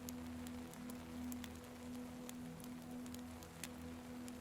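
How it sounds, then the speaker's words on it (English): Light rain falling at night by a lake, a soft, even patter with occasional distinct drops, faint and steady with a low background hum. "I think the rain is coming to an end"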